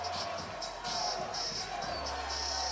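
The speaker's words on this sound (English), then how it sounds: "Listen to that crowd." Crowd at Nathan's Hot Dog Eating Contest cheering steadily in the final seconds of the eating, a loud continuous roar with swells, under an announcer's voice.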